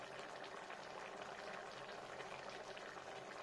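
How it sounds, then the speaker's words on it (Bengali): Spinach curry with tomato bubbling in a pot on the stove makes a soft, steady boil with faint gurgles throughout. It is quiet and close, with no talking. "দেখুন ফ্রেন্ডস কত সুন্দর ফুটছে"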